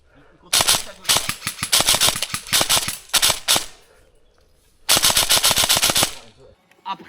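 Airsoft guns fire in the woods in rapid bursts of sharp, close cracks, several fast volleys separated by pauses, with one long sustained burst near the end.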